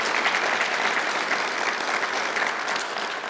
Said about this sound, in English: I would give them a round of applause.